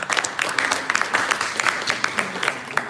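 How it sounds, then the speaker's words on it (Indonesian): An audience applauds five performers at a dance event, with many hands clapping in a steady scattered patter, moderately loud and close. "Beri tepuk tangan dulu teman-teman."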